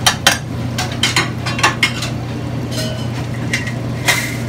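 Raw chicken nuggets stirred around in a container in a fast-food kitchen, giving repeated clinking and scraping knocks in an uneven rhythm over a steady low machinery hum.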